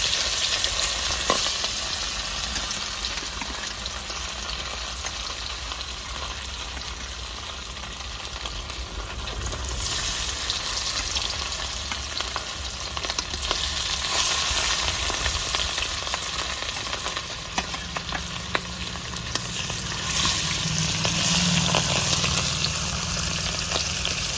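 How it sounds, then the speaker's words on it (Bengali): Rohu fish pieces frying in hot mustard oil in a rustic village kitchen, giving a steady, loud, continuous sizzle and crackle throughout with no talking. "লাল লাল করে ভেজে নিয়েছি, কড়া ভাজা হয়ে গেছে"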